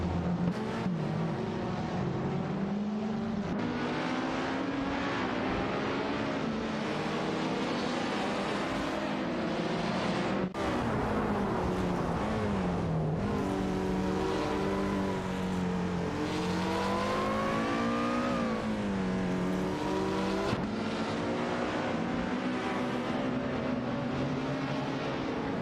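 Race car engines roar in a racing video game as a Volvo C30 and a Lotus Elise duel, a loud, continuous whine that rises and falls through the gears with no break.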